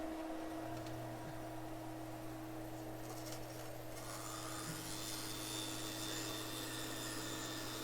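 A joinery crosscut hand saw works through wood with a steady, soft rasping stroke sound, fairly faint and close, over a constant low workshop hum.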